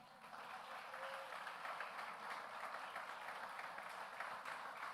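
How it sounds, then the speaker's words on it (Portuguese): Faint applause from a congregation fills a church service, a soft continuous patter of clapping heard from a distance for a few seconds. "Você pode aplaudir Jesus?"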